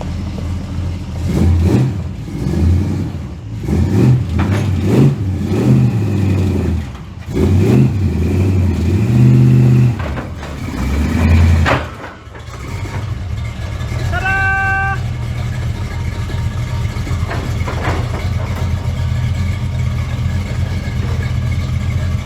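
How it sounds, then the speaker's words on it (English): A truck engine revs and pulls under load, rising and falling in bursts as it climbs loading ramps onto a homemade trailer, then settles to a steadier idle; a brief high tone sounds partway through. "We'll see if he'll drive on up on there."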